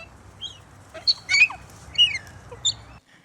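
A pet bird, a male, gives several sharp squawking and chirping calls in short bursts, fairly close and loud, with a quieter call near the start and no talking.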